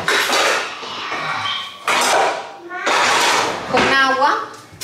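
A saucepan is handled in a home kitchen while garlic fries, with several bursts of metallic clanks and scrapes from pots and utensils separated by short pauses, and someone talking between them.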